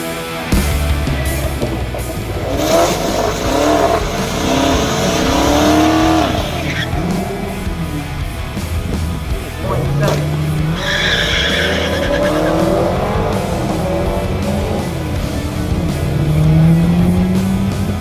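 A hot rod car, the White Shadow on new tires, accelerates loudly with engine roar and long squealing, skidding tires, close and sustained with rising and falling pitch, no talk.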